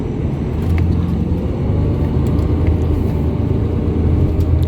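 A coach bus pulls away from Gatwick South Terminal, its engine giving a steady, loud low rumble and whir heard from inside the vehicle without pause.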